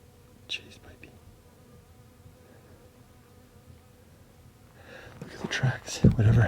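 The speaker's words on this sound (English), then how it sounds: "I got chased by a bee." Bees buzz outdoors on a wilderness walk, a faint steady drone that rises to a louder, close swarm toward the end, with a soft whisper-like breath early on.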